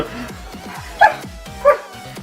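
A dog in The Legend of Zelda: Twilight Princess gives two short, bright barks about half a second apart, set over a pulsing, looping game soundtrack.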